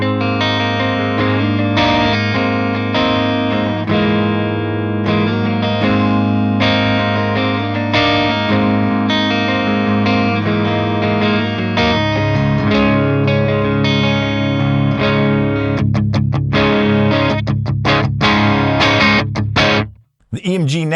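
A Dunable Minotaur DE electric guitar played on a clean amp channel through its EMG neck pickup rings out as sustained, full chords with chorus-like shimmer for about twenty seconds, ending in quick choppy strums before a brief drop to silence.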